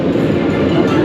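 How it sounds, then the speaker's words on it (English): Roller coaster train at SeaWorld Orlando climbing a 200-foot lift hill, a steady loud rumbling, rattling mechanical drone with faint clacking throughout, heard up close from aboard the train. "2 trains, no wait, and we are going up the lift hill"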